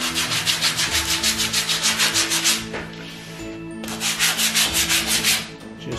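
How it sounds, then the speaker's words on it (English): Sandpaper rubs along the edge of a wooden fireplace mantle in quick, steady back-and-forth strokes, loud and close, with a brief pause midway and no talking. "Hit this with a little bit of sandpaper,"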